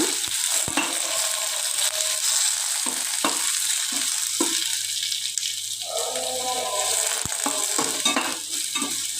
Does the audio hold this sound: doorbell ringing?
no